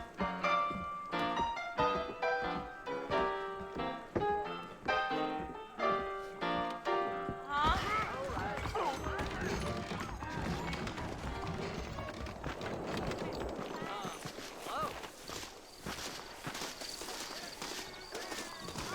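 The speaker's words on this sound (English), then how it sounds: "I got the horses saddled up and ready out front" Horse hooves clip-clop steadily in Red Dead Redemption, with music for the first several seconds, then a denser mix of hoofbeats and ambient game sound running throughout.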